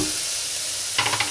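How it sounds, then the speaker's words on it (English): Leeks frying in a pot for pumpkin leek soup give a steady sizzle, with brief stirring scrapes near the end. "At this stage you can see the leeks are almost fried."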